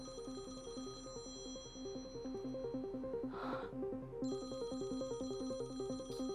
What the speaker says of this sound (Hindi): घंटी बज रही है।